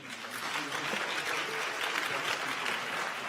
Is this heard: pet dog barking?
no